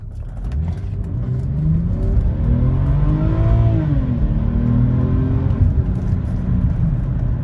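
A 2006 BMW 525xi E60 with all-wheel drive accelerates hard in sport drive mode, its engine note climbing steadily through the revs over a constant road rumble, heard from inside the cabin, with no talking.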